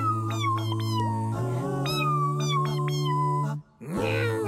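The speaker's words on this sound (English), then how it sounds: "Meow." A cartoon cat meows with drawn-out, wavering calls over steady background music, the sound stopping briefly near the end before resuming.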